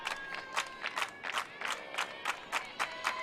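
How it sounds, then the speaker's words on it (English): A small softball crowd cheers on the Hawks in a rhythmic burst of regular claps or chants, evenly spaced beats repeating about three times a second, fairly quiet and distant. "Crowd getting behind these Hawks."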